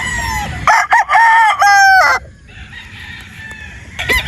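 A Boston Black rooster crows loudly and close by, a long harmonic call in several bursts, followed by quieter background bird chatter and a brief final call.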